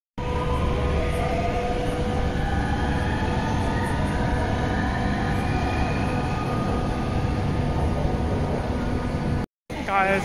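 A train runs at a busy railway station in China, giving a steady broad rumble and rush of rolling noise that stays loud and continuous for about ten seconds, broken by one brief cut near the end.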